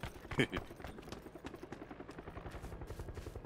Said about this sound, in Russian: Вертолет опять летит, опять кого-то позвали.